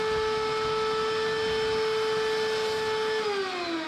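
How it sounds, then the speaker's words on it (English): A shop vac runs steadily nearby, sucking debris out of a car's blower motor housing with a constant whining hum that drops slightly in pitch near the end. "now we can shop vac in here and suck all of the other stuff out that's most likely on the blower motor"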